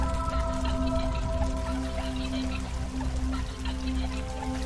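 Water pours and trickles in a 3D animated short film, a steady continuous splashing flow with a sustained tonal hum running underneath, moderately loud with no talk.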